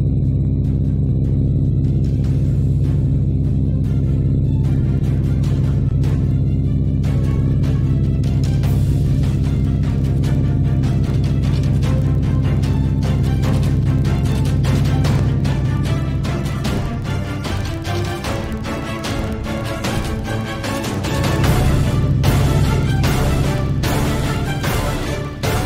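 Aircraft engine drone from the Linux Air Combat flight game, steady and loud throughout a landing approach with landing gear down, with shifting rumble and a brief dip in the engine tone near the end.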